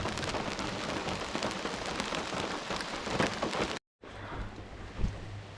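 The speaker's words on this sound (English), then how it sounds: "Sound of the rain is" Steady rain pattering on a tent at a campground at night during a storm at Warren Dunes, dense and close for several seconds, then a brief dropout and softer, hissier rainfall with a low hum.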